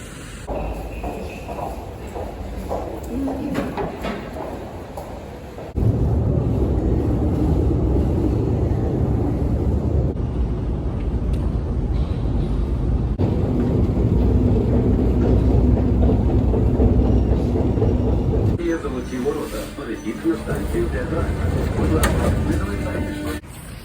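Rumbling ride aboard a Kyiv metro train, steady rolling rail noise swelling and easing as it travels, with faint voices at times.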